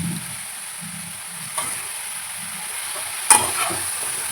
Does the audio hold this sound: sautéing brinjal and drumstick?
yes